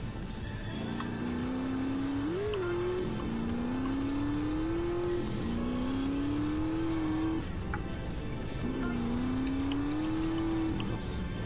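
A car drives in the video game GTA San Andreas, its engine droning steadily and revving up repeatedly in rising sweeps with brief drops between gear changes, loud and close throughout.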